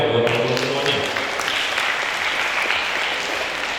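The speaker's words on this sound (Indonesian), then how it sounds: "teman-teman semua nih boleh kasih tepuk tangan yang meriah dong buat teman-teman semuanya" An audience at a public lecture on financial freedom applauds, steady clapping filling the room for several seconds while a voice talks over the start.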